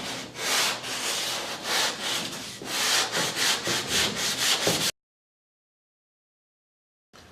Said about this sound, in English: And then do some sanding